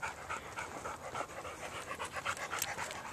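A dog panting rapidly and steadily at close range, breathy rhythmic huffs continuing throughout with no voices.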